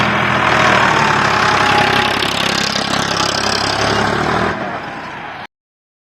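A farm tractor engine running steadily and loudly at close range, a rough continuous drone that drops off sharply near the end, with no talk.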